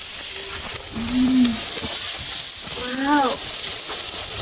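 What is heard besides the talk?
stir-frying grilled meat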